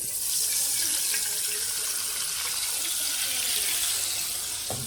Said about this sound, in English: Let me pour a little bit of this grease off,